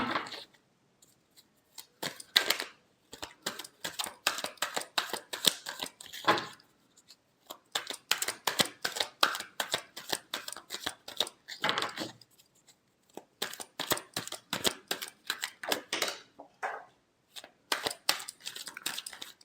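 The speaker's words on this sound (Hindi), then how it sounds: "लास्ट शफल वो कार्ड में उठाती हूँ।" Tarot cards being shuffled by hand, a rapid run of crisp riffling snaps and flutters in quick bursts separated by short pauses, close and fairly quiet, with no talking.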